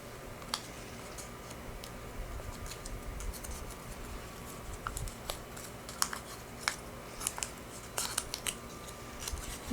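Paper being folded and creased for an origami hamburger, a steady run of soft crisp taps and sharp crackles against faint background hiss, with no one talking.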